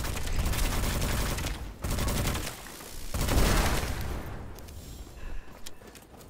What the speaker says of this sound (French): Il m'a tiré dessus.